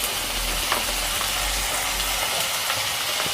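Two chopped tomatoes frying in a pan with browned ingredients for Indian beetroot puri and potato curry, a loud steady sizzle with occasional scraping stirs, no voices.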